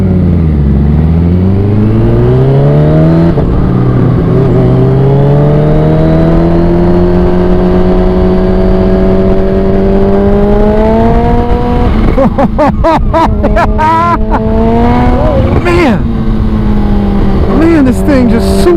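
A modded 2016 Kawasaki Ninja H2 motorcycle on a ride, its engine droning loud and steady with rising pitch as it accelerates, then sharp revving bursts and gear changes near the end, with wind rush throughout.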